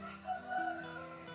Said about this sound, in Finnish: Naapurin kukko ei tykkää, kun ollaan tässä mekastaa tuossa vieressä.